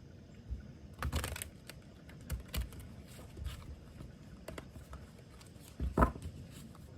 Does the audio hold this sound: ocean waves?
no